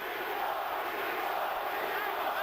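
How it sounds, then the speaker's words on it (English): A large boxing arena crowd chants for Tito Trinidad during his fight with Oscar De La Hoya, a dense, continuous roar of many voices filling the space at steady volume. "Crowd chanting Tito, Tito, Tito."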